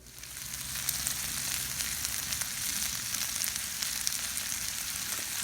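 Ribeye steaks sizzle steadily in a cast iron skillet on a cowboy grill, a dense, even hiss held at close range for the whole stretch with no talking.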